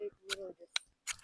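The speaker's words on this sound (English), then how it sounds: "This is a brand new ferro rod though, so it might take me a couple tries to get it." A brand-new ferro rod is struck three times outdoors while lighting a fire, each strike a sharp, close scraping rasp, with a voice speaking between the strikes.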